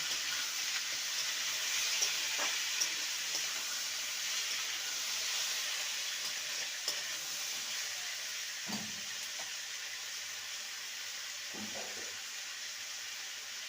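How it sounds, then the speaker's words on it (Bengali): Shrimp frying with ivy gourd and potatoes seasoned with salt and turmeric, a continuous hissing sizzle with a few scraping stirs of a spatula, quiet and close, with no voices. "চিংড়িটাকে ভালো করে ভেজে নেব"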